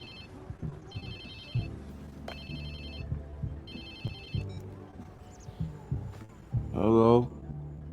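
A phone rings in the Watch Dogs 2 video game, a repeating electronic trill in several regular bursts, with game sounds and a character's voice under and after it.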